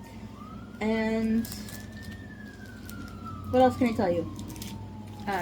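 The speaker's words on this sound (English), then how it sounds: "That is a siren." A siren wails in the distance, a long tone slowly rising then gradually falling, while a person talks over it and a brief sharper vocal sound interrupts.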